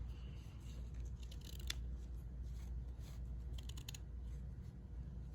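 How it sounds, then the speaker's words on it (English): Quiet, close snipping of scissors cutting away knit fabric near a line of stitching, several soft crisp cuts over a low background hiss, no talking. "we're going to cut this away, and you can cut it pretty close to your stitching"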